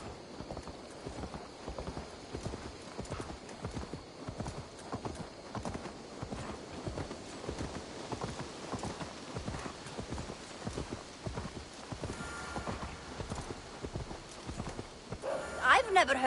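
Horse hooves clip-clop steadily in Assassin's Creed Valhalla, a regular rhythmic trot running under game music and characters talking throughout, with a brief louder burst near the end.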